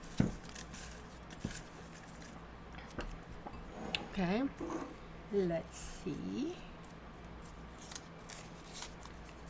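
Soft papery riffling and shuffling of tarot cards in quiet bursts, while a person speaks briefly now and then nearby.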